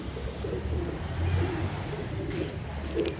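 Indian Kagzi pigeons cooing softly in a loft, low rounded coos repeating intermittently against a constant background noise with no speech.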